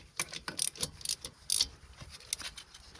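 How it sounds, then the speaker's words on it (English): A bolt being spun out of a Toyota RAV4 front wheel bearing, giving quick metallic clicking and ratcheting bursts in uneven rhythm, close and fairly quiet. "getting to the last bolt here, I'm going to spin this little sucker out"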